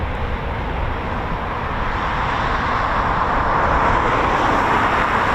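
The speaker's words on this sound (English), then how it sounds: "More Typhoons just taxiing out now." RAF Eurofighter Typhoon FGR4 jets taxi out at an air station, a steady broad engine roar that holds at a constant loud level without talk.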